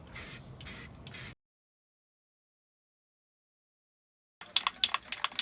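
Spray-can primer hisses onto a car wheel in three short close bursts, followed by a long silence and then a run of brief sharp taps and sprays.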